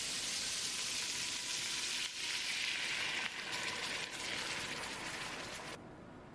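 Small onions and red vinegar sizzle steadily in a frying pan in a restaurant kitchen, a continuous close hiss with slight surges that drops off sharply near the end.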